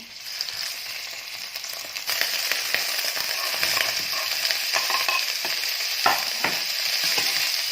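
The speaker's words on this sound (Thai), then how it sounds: "ใส่ผักเข้าไป น้ำมันมันกระเด็น" Vegetables hit hot oil in a pan over a wood fire and fry with a loud, steady sizzle and spattering crackles, stirred now and then, with no talk.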